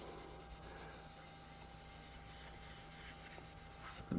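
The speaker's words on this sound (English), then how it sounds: "dry microfiber cleaning cloth and wipe down the 4:1 ratio side over here" Dry microfiber cloth rubbing down a wooden board coated in board butter, a faint steady scrubbing close by, ending in a brief louder knock.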